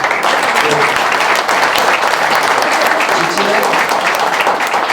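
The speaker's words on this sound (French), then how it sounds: "Je pense que vous méritez des applaudissements pour l'originalité." Audience applause at an award event, steady dense clapping that stays loud and even for the whole stretch, with no voice over it.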